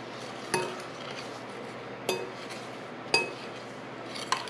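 A spoon stirs a dessert mixture in a bowl, giving four sharp, separate clinks against the dish over a quiet background, with no one talking.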